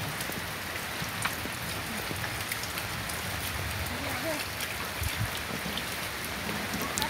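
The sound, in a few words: heavy rain falling on courtyard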